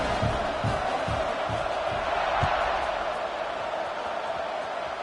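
College football stadium crowd at a Duke versus SMU game, a broad steady roar of many voices with rhythmic low thumps and shouts, while a commentator talks over it.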